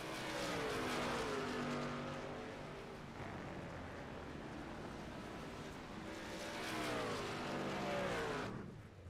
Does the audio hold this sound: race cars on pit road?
yes